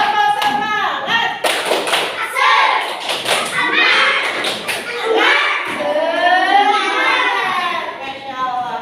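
Schoolchildren perform a rhythmic spirit clap in a classroom, loud patterned claps and slaps in quick groups, mixed with their chanting voices and an adult voice speaking.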